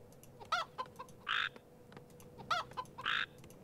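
A chicken critter clucking in a base in the video game Warcraft III, two pairs of short clucks and squawks with a pause between them, clear and alone with no talking.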